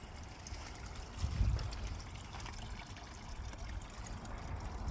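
Water trickles softly and continuously in a garden pond, with a steady gentle patter and a brief swell of splashing partway through.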